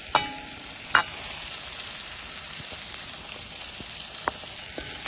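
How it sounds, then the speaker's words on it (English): Beef, spices and onions frying in a pot make a soft, even sizzle as a utensil stirs them, with a few crisp scraping clicks scattered through and no one speaking. "Stir that all around."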